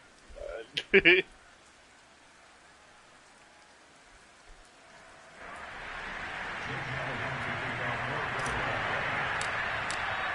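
Rain falls during a football video game match, swelling after a few seconds into a steady, dense hiss that holds to the end, following a brief burst of crowd or commentary sound at the start.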